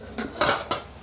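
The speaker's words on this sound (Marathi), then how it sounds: "झाकण काढूया." A metal lid lifted off a cooking pot of simmering cabbage and peas, giving a few short clanks and a brighter metallic clatter near the middle, then one more knock, all close and fairly loud with no talking.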